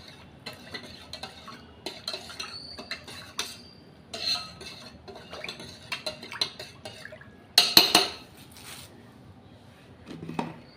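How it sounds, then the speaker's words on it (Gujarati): Spoon stirring salt into fresh lemon juice in a metal pot, giving a string of light scraping clinks and short swishes, with a sharper clatter near the end. "તો આપણે એક ચમચી એક મીઠું ભર્યું છે અને રસમાં નાખી દઈ અને પછી એને આવી રીતના હલાવી નાખી"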